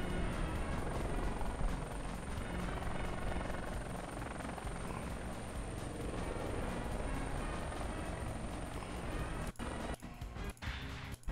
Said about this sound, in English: It's just a plane.